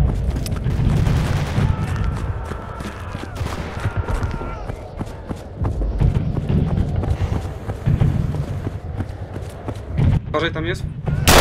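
Gunfire in a Polish-language multiplayer World War II naval-infantry battle game, Mare Nostrum, with steady rattling shots and thuds running through the clip under near continuous excited talk, plus a sharp burst near the end.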